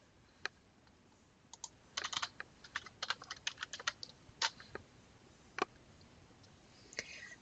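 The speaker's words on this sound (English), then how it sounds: "I'll type in my concept" Someone typing a search term on a computer keyboard, quiet close key clicks in irregular bursts with short pauses, with no talk.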